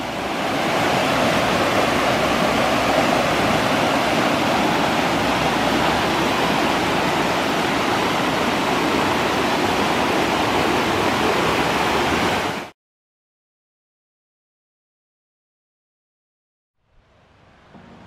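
Water pours at the source of the Dordogne near Mont-Dore, a loud, broadband rushing like a small cascade, steady and close for about twelve seconds before cutting off abruptly, with a faint return at the end.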